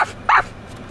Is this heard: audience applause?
no